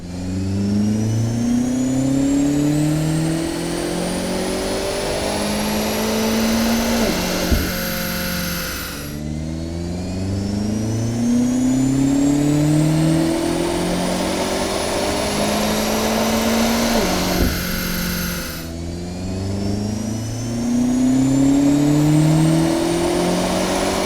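A BMW X5M with a 4.4-litre twin-turbo V8 revs loudly and close. It makes three long rising engine runs, each climbing in pitch before cutting off abruptly, then starting again.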